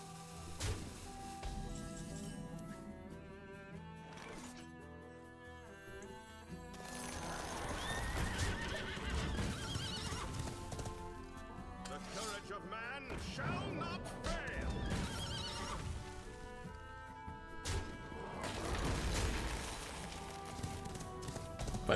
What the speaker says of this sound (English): Here comes that steed.